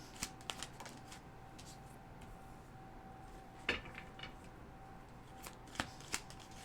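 Tarot cards are shuffled by hand, a faint, close series of soft riffles and sharp flicks scattered over several seconds, with a steady low hum beneath and no talk.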